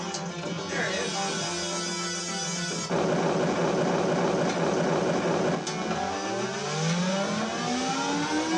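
Electronic Pinbot pinball table from the Visual Pinball game, playing a dense, loud run of synthesized tones with sweeping rising pitches and steady chimes that carries on throughout.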